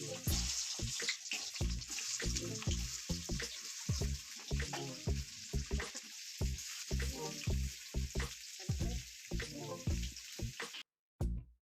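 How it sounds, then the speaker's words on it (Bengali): Small potatoes frying in hot oil in a wok crackle and sizzle steadily nearby, with repeated clattering thumps from stirring or tossing that fall in a loose rhythm, then a short pause near the end. "এবার আলুগুলোকে আমি ভালো করে ভেজে নিচ্ছি।"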